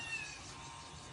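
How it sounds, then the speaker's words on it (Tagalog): A house cat meowing at home, a single drawn-out call near and moderately loud over a steady room hiss with no talk. "Ito naman ang kanilang cat."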